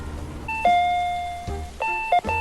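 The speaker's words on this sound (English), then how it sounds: "Stop playing with the fucking doorbell" Doorbell in a video game under development, rung repeatedly with several loud close ding-dong chimes in quick succession.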